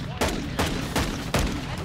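Gunfire in Modern Warfare 2, a multiplayer shooter: four sharp, loud shots spaced roughly evenly less than two seconds apart, each with a brief decay.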